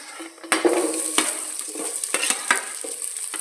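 Onions tossed into hot oil with bagara masala for a meal maker pulao, crackling and sizzling steadily with a few sharp stirring scrapes and clinks of a spoon against the pan; no talking.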